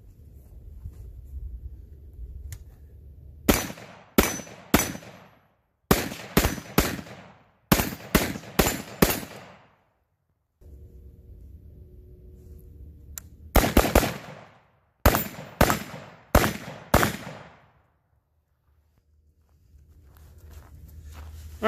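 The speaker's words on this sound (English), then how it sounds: "we'll go ahead and shoot it a little bit without the can and let you see what the brake looks like" Unsuppressed 10.5-inch AR15 pistol fitted with a muzzle brake, firing several quick strings of three to five sharp, loud, cracking shots separated by short pauses, with no talking.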